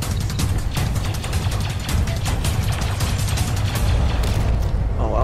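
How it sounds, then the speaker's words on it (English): A wrist rocket blast in a Star Wars video game, heard as a dense, continuous roar of loud booms and bursts that carries on without a break and swells toward the end. "I wasted my wrist rocket"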